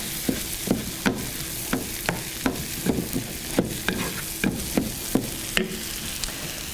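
Green onions sizzling in a pan while being stirred, a continuous frying hiss broken by regular scraping strokes about twice a second, with no voices.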